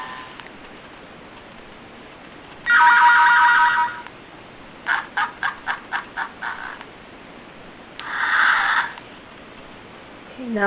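Toy sound-book button effect meant as paintbrushes: a quick run of about six short, evenly spaced electronic ticks between two longer, louder bursts of bright synthetic noise, with no one talking.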